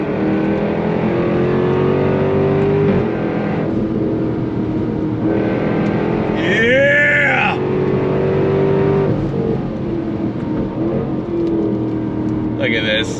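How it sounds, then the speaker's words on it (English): A 2024 Jaguar F-Type R 75 with a supercharged V8 accelerates hard, its engine note climbing and dropping through quick gear shifts, loud and close from inside the car, with a person talking over parts of it. "Supercharged V8, here we go."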